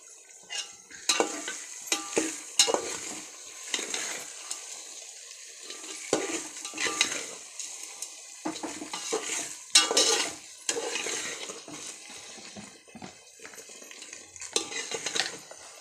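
Grains being stirred and fried in a pan, with repeated scraping strokes of a utensil against the metal in an irregular rhythm over a soft sizzle, close and clear, no talking.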